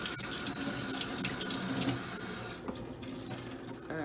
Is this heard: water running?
yes